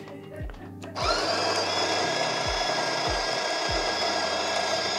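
A DeLonghi La Specialista Arte Evo espresso machine's built-in grinder whirs steadily and loudly after a few low thumps. Someone speaks briefly under the grinding at the start.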